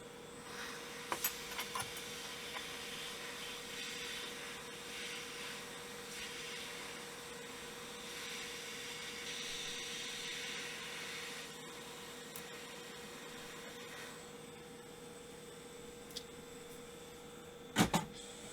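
A hot-air rework station blows steadily over the circuit board of a Fluke 8846A 6.5-digit multimeter to desolder an IC, with a metal guard shielding a nearby resistor array. It makes a continuous airy hiss with a faint hum, with a few light clicks and taps near the end.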